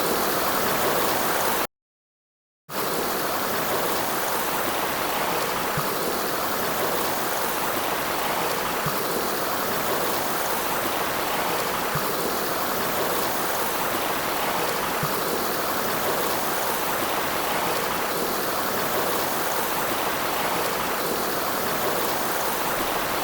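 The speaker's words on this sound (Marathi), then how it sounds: "वॉटरफॉलचं पाणी येते खाली" Ganjrai waterfall pours down in a steady, loud, broadband rush of falling water that holds constant throughout, with one brief gap near the start and no voices.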